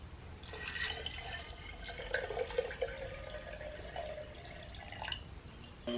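Water pours and trickles into a ceramic ball mill jar, a steady splashing flow with small drips, close and fairly quiet, with no talk.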